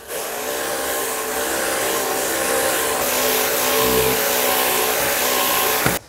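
A Kärcher K3 pressure washer runs steadily as it cleans a painted door, giving a loud, continuous motor whine with spray hiss that holds for about six seconds before cutting off abruptly.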